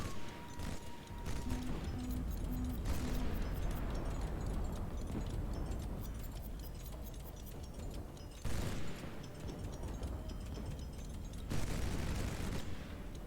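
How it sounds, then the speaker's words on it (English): A burning ship's fuel or ammo explodes during a naval battle in the video game High Fleet: loud, dense booms and crackling bursts that swell and repeat over a continuous roar of game noise. "I think it just had a fuel explosion there, or ammo or something"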